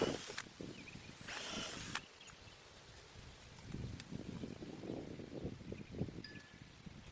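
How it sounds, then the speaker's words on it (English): A power drill whirs in two short bursts, drilling into the wooden back of a planter box and a post, then quieter rustling and handling noises follow, with a few faint clicks near the end. "I am drilling into the back of the box as well as into the post"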